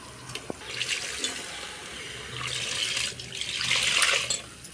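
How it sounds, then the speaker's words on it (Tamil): Water is poured into a pot of goat head curry in two short splashing pours, fairly soft, against a quiet kitchen background. "இது கூட தண்ணி சேர்த்துக்கலாம்"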